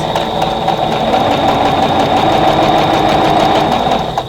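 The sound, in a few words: sewing machine chain piecing quilt block pieces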